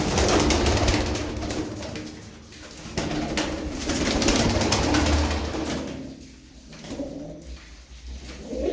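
Several pigeons coo loudly and close, overlapping throaty calls rising and falling in waves over a steady hum.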